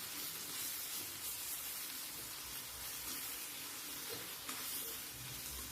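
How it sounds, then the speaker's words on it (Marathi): Chopped tomato and onion sautéing in hot oil for a Marathi okra stir-fry, with a soft continuous sizzle and hiss close by and faint stirring scrapes. "टमाटा पण आपल्याला तेलावर छान परतून घ्यायचा आहे"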